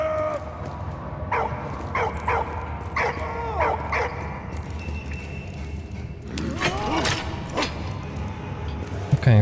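A dog in the World War I video game Valiant Hearts: The Great War gives several short barks and yips, then a drawn-out whimpering whine, close and clear over low background game sound.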